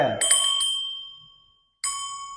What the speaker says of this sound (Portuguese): O frade vai ensinar a tocar no sino.